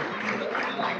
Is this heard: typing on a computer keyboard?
no